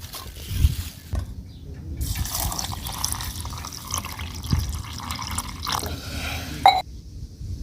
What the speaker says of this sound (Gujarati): આપણે આમાં થોડુંક 1 ગ્લાસ જેટલું પાણી નાખવાનું છે